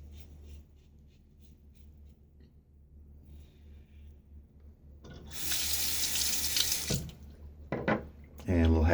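Bathroom tap gushes into a sink for a quick razor rinse during a wet shave, a bright rushing stream starting partway through after quiet scraping and small drips, then cutting off and briefly resuming near the end.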